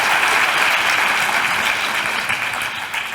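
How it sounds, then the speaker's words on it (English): An audience at a workplace good-practice awards ceremony claps in loud, dense, continuous applause that holds steady, then eases slightly toward the end, with no voices over it. "So the applause is for them, really, because they're the ones who have done all the hard work."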